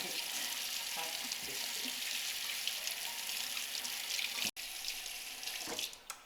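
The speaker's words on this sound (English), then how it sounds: "First, you make sure you wash the potatoes." Tap water runs steadily over potatoes being washed in a sink, a constant close hiss with faint handling knocks and a brief cutoff near the end.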